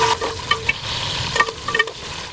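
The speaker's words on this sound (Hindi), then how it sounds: "नारियल और किशमिश, इन सबको डाल देंगे और 1 आध मिनट इसको फ्राई करेंगे।" Coconut and raisins lightly sautéing in a pan for sweet jaggery rice, a steady close sizzle with scattered scraping stir clicks throughout.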